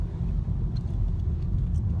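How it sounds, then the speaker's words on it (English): A car drives along back roads, heard from inside as a steady, loud low rumble of engine and road noise with no talking. "I'm driving on the back roads because traffic's a bitch."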